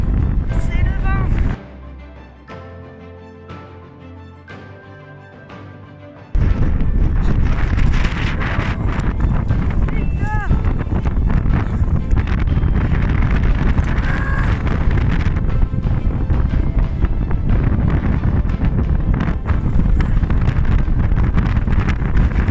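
Wind on the Pacific Crest Trail blows into the microphone. After a short, quieter tonal passage it becomes a loud, gusty, rumbling roar that buffets on and on.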